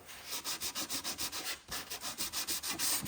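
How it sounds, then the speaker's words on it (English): Quick rhythmic back-and-forth strokes of sandpaper rub across wood, close and fairly quiet, with one brief pause midway. "hit it with a little bit of sanding"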